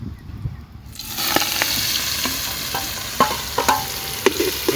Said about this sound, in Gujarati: સારી રીતે પાકી જાય ત્યાં સુધી ફેરવશું આપણે લીલી ડુંગળી